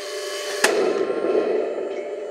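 A Heng Long RC tank fires its barrel smoke kit with a single sharp crack, followed by a steady low whirring hiss that fades gradually, heard close by.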